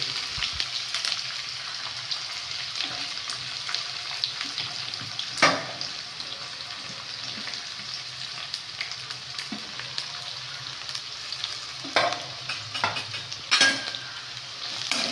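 Sliced onions frying with whole spices for biryani, a continuous sizzle with the spoon scraping and clinking against the pan at irregular moments.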